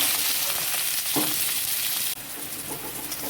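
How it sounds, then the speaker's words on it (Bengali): Chopped onion and green chili fry in hot oil in a pan, a loud close crackling sizzle with a couple of stirring scrapes, briefly dipping before the sizzle resumes. "পেঁয়াজ লঙ্কা ভেজে নেব"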